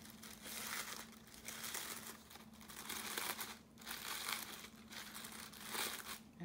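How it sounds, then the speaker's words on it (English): Delicate tissue paper flower layers handled and separated one at a time, soft continuous crinkling and rustling in gentle swells, close and quiet with a faint steady hum beneath. "you separate your pieces of flower one at a time, delicately, because tissue paper is very delicate and can tear"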